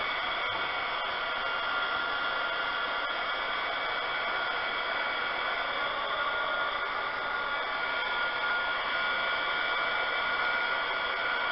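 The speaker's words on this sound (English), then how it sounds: "I'll give it a little bit more of a dryer" A hair dryer blows steadily on curing resin to pop surface bubbles, a constant loud airy whoosh that holds unchanged for the whole stretch with no talking.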